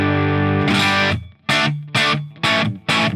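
Short guitar phrases played through a Line 6 Helix with distortion and reverb. Several loud, close strums ring out in a choppy rhythm, each decaying into a reverb tail between hits.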